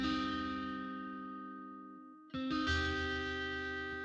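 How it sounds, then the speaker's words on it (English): A synth tone in a music production session rings with reverb, its sustained notes decaying into a wash before a new chord cuts in brightly, with no voices. "And we can also add some reverb"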